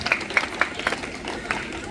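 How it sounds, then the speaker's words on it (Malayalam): An audience at a memory test programme gives a short burst of applause, a handful of distinct, separate claps, fairly close and moderately loud. "നമ്പർ ശരിയാണെങ്കിൽ ഒന്ന് കൈയടിച്ച് പ്രോത്സാഹിപ്പിക്കേണ്ടതാണ്"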